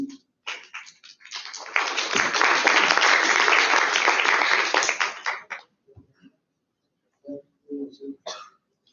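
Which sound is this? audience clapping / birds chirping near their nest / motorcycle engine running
audience clapping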